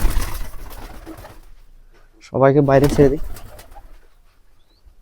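A Lakkha pigeon gives a single close, throaty coo lasting about a second, following a man's speech and faint background rustling.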